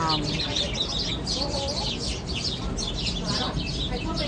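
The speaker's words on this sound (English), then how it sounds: "birds are having a fight." Outdoors in New York City on Memorial Day, birds squabble with quick bursts of chirps and squawks, fairly close, over steady background noise, while people talk nearby.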